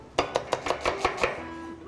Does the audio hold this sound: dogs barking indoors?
no